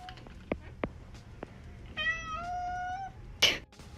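A homeless cat meows several times. There are a few short chirps first, then one long, drawn-out meow. A sharp nearby noise follows in an otherwise quiet room.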